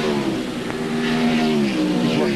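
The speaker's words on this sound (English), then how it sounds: "Steve Park still going by the Burger King Chevy." Stock race cars at Watkins Glen during the 1997 Bud at the Glen, a loud sustained engine drone with a falling pitch as cars run past on the road course.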